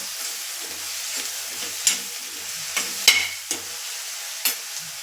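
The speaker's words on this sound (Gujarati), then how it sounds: "કોથમીર એડ કરી અને બરાબર મિક્સ કરી લેશું." A puffed rice snack tossed with chopped coriander in a pan, heard as soft faint rustling with several sharp scrapes and taps of a spoon against the metal.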